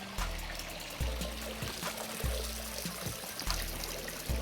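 Water drains out of a Dolphin Quantum robotic inground pool cleaner as it is held up, making a steady close splashing trickle with a few small knocks.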